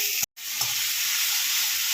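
Onion and tomato roasting in a little oil in a pan for green-masala chicken, a steady close sizzle and hiss with a brief gap of silence near the start.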